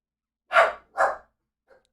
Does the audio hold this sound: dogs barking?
yes